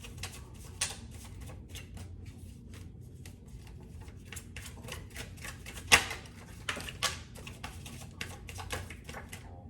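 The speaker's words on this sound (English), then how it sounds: "I'm going to pull 2 cards." Tarot cards are shuffled and drawn from a deck, giving quiet, close clicking and riffling flutters with a few sharper snaps, without speech.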